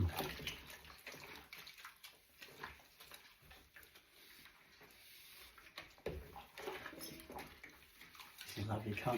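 Dog bowls and plastic containers are washed up in a sink of water, with sloshing, splashing and clinking under continuous background noise.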